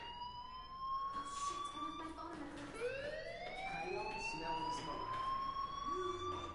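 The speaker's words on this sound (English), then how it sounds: "do you hear that fire alarm?" A fire alarm in the video game Life is Strange wails in steady, rising electronic tones that repeat and climb in pitch, sounding clearly over a busy background.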